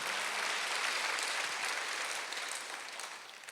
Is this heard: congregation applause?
yes